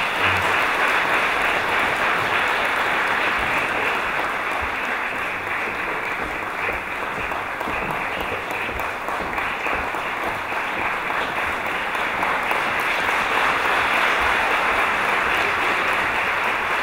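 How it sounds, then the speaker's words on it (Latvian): An audience applauds steadily and loudly for the full stretch, a dense, unbroken wash of clapping at an event after a speaker's thanks. "Vēlreiz aplausi"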